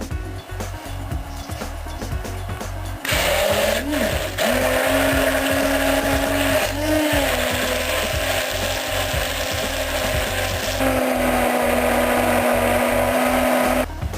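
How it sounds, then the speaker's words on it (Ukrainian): A blender motor whirs loudly and steadily after a short lead-in of rattling, its pitch dipping briefly as sesame seeds are ground for sesame milk. "з допомогою, знову ж таки, того самого блендера я кунжут буду зараз"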